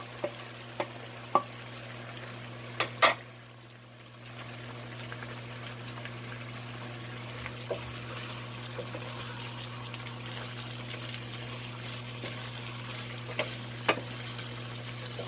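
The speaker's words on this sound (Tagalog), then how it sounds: "Ngayon, ilagay ko ng ating sibuyas." Onions, white and red, sautéing in a pan for pork steak with a little sauce; a soft, low sizzle runs throughout, broken by a few sharp clicks and knocks of stirring, with a brief dip near the start.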